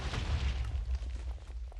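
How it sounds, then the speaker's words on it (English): Minecraft TNT explosion from the All The Mods Volcano Block modpack, a muffled, rumbling boom with heavy low-end that sustains and slowly decays over about two seconds. "Explosion, TNT."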